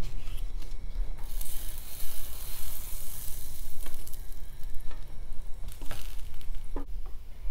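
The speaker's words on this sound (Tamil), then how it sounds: "பட்டர் தடவிட்டு ப்ரெட்டை வைக்கிறேன். திருப்பி போட்டுடலாம்." Buttered bread fries in a pan with a steady, close sizzle throughout, broken by a few sharp scraping clicks as it is shifted around.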